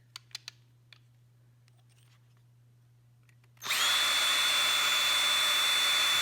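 After a few light clicks, a cordless power drill spins up and whines loudly at a steady high pitch for the rest of the clip, with no talk.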